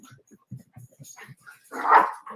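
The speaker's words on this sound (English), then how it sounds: "Man, my little dogs, man." Small dogs yip and bark in quick short bursts close by, ending in a louder whining bark, with no talk over them.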